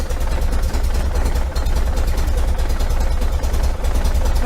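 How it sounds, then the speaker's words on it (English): A running 1973 VW Super Beetle engine idles steadily up close, with a loud low rumble and faint metallic clatter running through it without a break. "That's the only thing I hear clanking is that right there."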